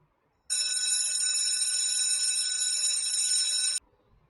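A school bell signalling the end of a class period rings in one continuous, loud, steady electric trill for about three seconds, starting and stopping abruptly, with silence before and after.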